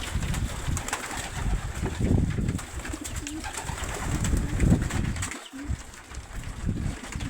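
A flock of racing pigeons coos steadily up close, with soft wing flutters mixed into the continuous throaty calls.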